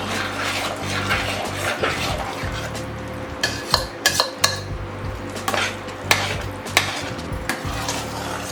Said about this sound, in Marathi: आता गॅस चालू करूयात आपण आणि कंटिन्यू हलवत राहायचं, नाही तर खाली लागलं जाऊ शकतो.